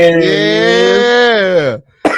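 A person in a sports podcast studio sneezes with a long, strained, voiced wind-up lasting well over a second, a short pause, then one sharp, loud burst right at the end.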